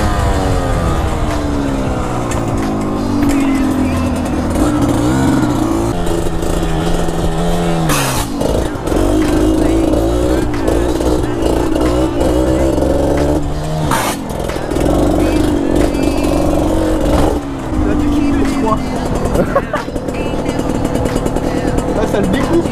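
Motorcycle practising stunt stoppies: a loud engine repeatedly revving up, gear changes and throttle swells, then dropping off sharply under hard braking, close and continuous.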